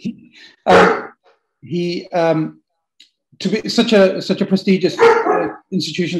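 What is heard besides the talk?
dog barking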